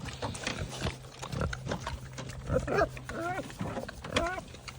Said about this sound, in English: These good piggies.